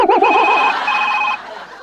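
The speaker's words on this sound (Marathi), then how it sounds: "अय्या, मामांजींचा फोन आला" A telephone rings indoors in a home during a Marathi comedy scene, a warbling trill followed by a sustained electronic tone, loud and close.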